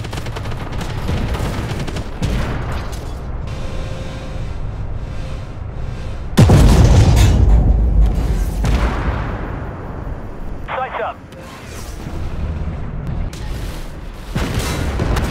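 Tank taking hits from shells in the video game Armored Warfare: a heavy booming impact around the middle with rumbling decay, surrounded by gunfire, clanks and scattered bangs, loud and close, with brief game voice callouts.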